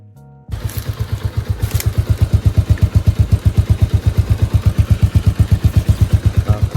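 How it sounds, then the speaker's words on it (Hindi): A Bajaj Avenger 220 cruiser motorcycle in first gear, its exhaust thumping in a steady, fast, loud pulse right up close after a brief quiet start, with no voices over it. "तो हम आपको इसका एग्जॉस्ट साउंड सुना देते हैं।"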